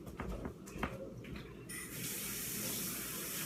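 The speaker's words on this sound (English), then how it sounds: "The spoon and fork must be washed off for this to work." Tap water pours to wash a spoon and fork in a kitchen sink, with light clinks and handling at first, then a steady close gush of running water.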